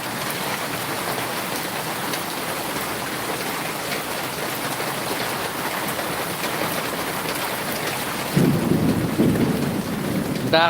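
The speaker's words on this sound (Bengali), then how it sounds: "হালকা গুড়ি গুড়ি বৃষ্টি হচ্ছে" Steady rain patters outdoors in rural countryside, an even wash of drizzle throughout, joined near the end by a louder, low rumbling burst; no one speaks.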